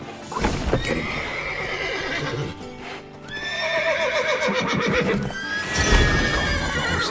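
Horses in The Witcher 3 whinny and neigh repeatedly over clopping hooves, the loud calls rising in several long bursts with a brief lull in the middle.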